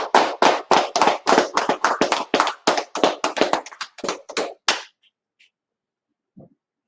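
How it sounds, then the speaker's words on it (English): A church congregation at a Sabbath service claps in a burst of sharp, close hand claps, fairly rhythmic and loud, which stops abruptly, followed by near silence and a single faint tap. "let's clap it up"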